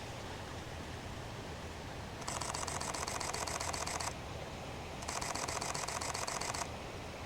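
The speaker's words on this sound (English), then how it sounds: "That is the 12 frames per second mechanical shutter." Canon R5 mirrorless camera firing its mechanical shutter at 12 frames per second, heard close up as two rapid bursts of dense clicking, each lasting about two seconds, separated by a brief pause over a faint background hiss.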